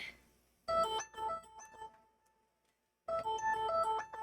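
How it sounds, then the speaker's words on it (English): Samsung Galaxy Z35G phone ringtone playing a bright repeating melodic chime, a burst of tones, a brief pause, then the melody resumes loudly and close by. "Your Galaxy Z35G should be ringing"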